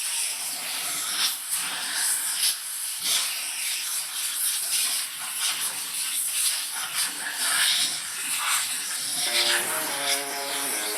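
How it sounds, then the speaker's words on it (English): Steam cleaner hissing steadily against a porcelain urinal in a bathroom, a continuous broadband rush that shifts as the nozzle moves across the surface, close and fairly loud throughout. "So I'm going to clean through the urinal. No brush, just simply steam only."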